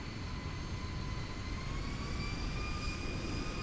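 Steady, continuous engine roar of a simulated Boeing 737 in the X-Plane 12 flight simulator, with a thin high whine over a broad rumble, holding at a constant moderate level throughout with no speech.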